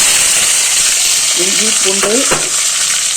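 Whole spices crackle and sizzle in hot oil in a pan, a steady frying hiss throughout with a few sharper pops near the end, while a voice speaks briefly over it during preparation of a chicken gravy.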